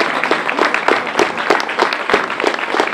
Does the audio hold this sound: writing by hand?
no